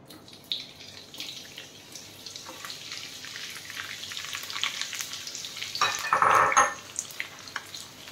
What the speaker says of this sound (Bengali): ঘি আর একটু সাদা তেল মিশিয়ে এবার এই যে পেঁয়াজগুলো একটু বড় বড় করে কেটে রেখেছি, এই পেঁয়াজগুলো দেব